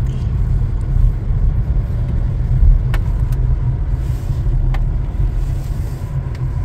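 Steady road traffic rumble heard from inside a car leaving the Champlain bridge exit toward Quebec City, a loud continuous low engine and tire drone with a couple of faint clicks and no talk.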